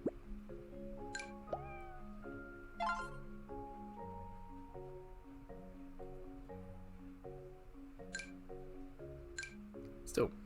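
Cartoon cats meow in the mobile game Cat Snack Bar, several short high mews scattered over a cheerful looping synth melody, with small plopping effects and clicks, moderately faint and with no voice over them.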